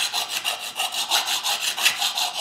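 A hand file rasps back and forth on a metal motorcycle fender in quick, even strokes, a steady scraping rhythm close up with no voices.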